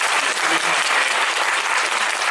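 A theater audience claps continuously at a musical's curtain call, a dense and fairly loud round of applause with no talking.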